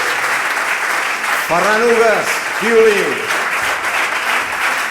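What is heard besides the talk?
audience applauding musicians at concert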